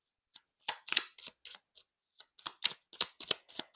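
Oracle cards shuffled by hand during a tarogether reading, soft papery riffles and slaps in short irregular bursts separated by brief pauses, close and fairly quiet.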